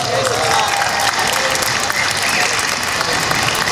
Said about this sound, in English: Those claps, that love right there, you need to hand that out to the boys in uniform